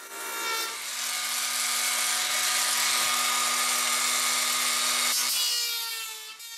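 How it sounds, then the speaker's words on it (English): A rotary cutter with a two-inch carbide blade bites into grand piano wood while making relief cuts, giving a loud, continuous high whining grind for several seconds before it winds down. "we used a rotary cutter with a carbide, 2-inch carbide blade in it for cutting the relief cuts to get the section out"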